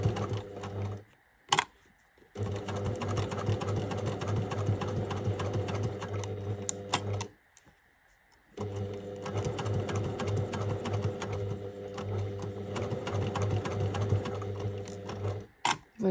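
A sewing machine stitches a piped seam on fabric in two long runs of rapid, even needle chatter, separated by short pauses, close and clear.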